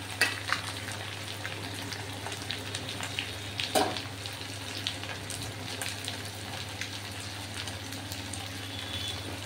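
Tomato with a little garlic paste frying in a pan, a steady soft sizzle and bubbling running throughout with a few faint stirring clicks, close and moderately quiet, no voices.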